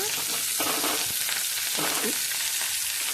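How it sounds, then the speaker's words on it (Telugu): Mustard seeds, dried red chillies, curry leaves, garlic and cumin fry in hot oil for a tempering, giving a dense, constant, close-up sizzle and crackle with a few soft stirring sounds. "ఆవాలు ఎండుమిర్చి కరివేపాకు ప్రతి కూరకిలా వేస్తాం కదండి పోపు వేసేసిన తర్వాత"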